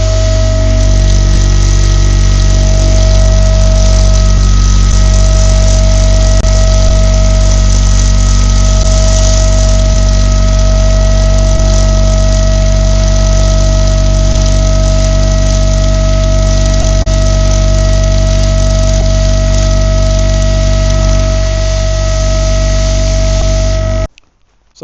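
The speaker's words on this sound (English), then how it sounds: "I might film this black one getting blasted because it'd be cool to watch all the black paint come off it" Media blasting strips black paint from an alloy part of a Honda CBR250RR motorcycle, a loud, constant hiss over a deep droning hum that runs nearly twenty-five seconds without a break before cutting off abruptly, no voices.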